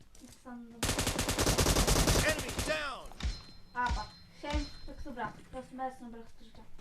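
A rapid burst of automatic gunfire from a video game rattles loudly for about two seconds, followed by a few scattered shots and thumps while a young voice chatters over the game.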